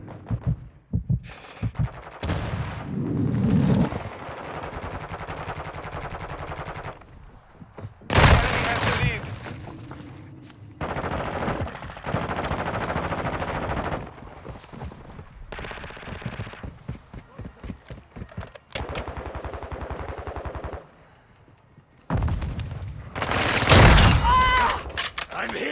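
Gunfire from the Call of Duty video game in dense bursts of automatic and single shots, loud and close, with a heavy barrage near the end.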